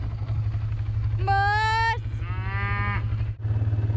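Cattle moo twice, loud and near, while cows are moved down to pasture, with a steady vehicle engine drone running underneath throughout.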